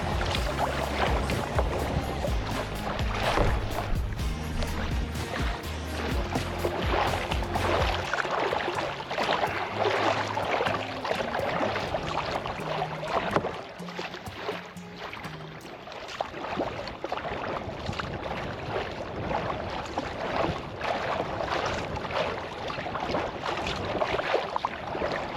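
A kayak is paddled against the wind on the Grand River. Constant loud wind buffets the microphone, with water splashing and rhythmic paddle strokes underneath throughout.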